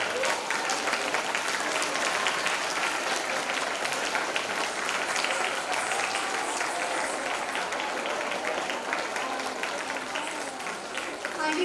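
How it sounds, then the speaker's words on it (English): Sustained applause from a literature conclave audience after a performance, dense and steady throughout, with a few voices mixed in. "A huge round of applause. The applause, this clap must not stop."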